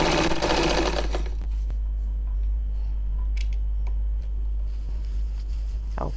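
A sewing machine stitches fabric and elastic for a turban cap in a loud, fast burst at the start, then goes quiet, leaving a low hum and a few scattered small clicks and handling sounds.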